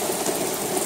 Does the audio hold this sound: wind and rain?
yes